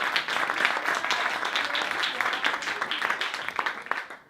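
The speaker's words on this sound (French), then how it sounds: "Bon, on peut l'applaudir pour avoir vu le jeu." Audience at a French motivational conference breaks into steady applause, a dense, even wash of many hands clapping that holds for several seconds before thinning at the end.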